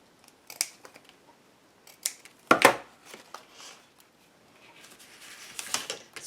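Scissors trim the excess off paper strips glued onto paper doll dresses in an altered book, giving scattered sharp snips close by with one louder cut and soft rustling between them.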